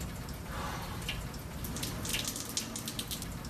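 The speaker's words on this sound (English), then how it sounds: "I just got to fill up my water bottle." Water running from a tap into a bottle, a steady close splashing stream lasting throughout with small bright spatters.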